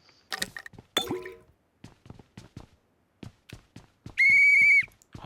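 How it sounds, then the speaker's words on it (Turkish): Scattered clicks and taps lead up to a single loud, steady electronic whistle near the end, held for about half a second, in the video game PUBG. "niye düdük çalıyorsun adam diyor"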